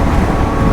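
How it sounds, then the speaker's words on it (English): Heavy wind buffets the microphone of a rider on a Royal Enfield motorcycle, a dense, steady roar that fills the whole moment with no other sound standing out. "it's super windy today"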